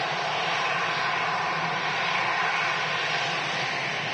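Steady, broadband roar of EasyJet airliner engines at Manchester Airport, a constant loud rush with no pauses or voices through the whole stretch.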